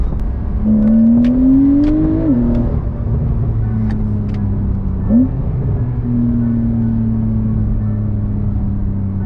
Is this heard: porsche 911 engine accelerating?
yes